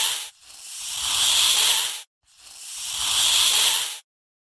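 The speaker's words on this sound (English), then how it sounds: "Cobra." A cobra hisses in two long, loud breathy bursts of about two seconds each, separated by a short pause, alone with no other sound.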